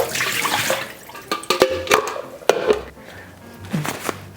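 Items rinsed under running tap water in a sink: a continuous splashing stream with clunks and knocks from the items being handled, close by, with no talking.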